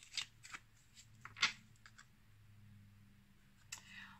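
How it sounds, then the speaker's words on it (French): Cards from a small angel oracle deck being handled and drawn, a few quiet papery flicks and snaps with one sharper slide in the middle, close and soft in an otherwise hushed room. "on va terminer avec une toute dernière carte du petit oracle des anges"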